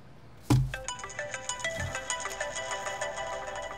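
A mobile phone's melodic ringtone plays clearly and steadily for an incoming call. It starts after a short thud and runs on without any voices.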